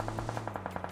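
Automatic gunfire sprays in rapid, evenly spaced bursts during a PUBG Mobile match. About nine shots crack in one second over a steady low hum, with no talking.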